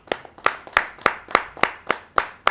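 Audience clapping for a poet at a Hindi kavi sammelan, a few evenly spaced sharp claps ringing close and loud in a steady rhythm.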